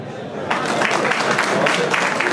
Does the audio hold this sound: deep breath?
no